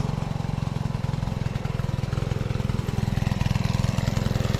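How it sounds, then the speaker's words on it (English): Steve's leaf blower blowing cut grass out of a garden border after mowing, a steady, loud, close engine drone with a fast pulsing rumble that runs throughout without talk. "here's Steve blowing out the border"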